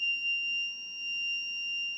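A small electronic buzzer wired into a playdough circuit emits a steady, piercing high-pitched tone that holds unbroken throughout, loud and close with no talking.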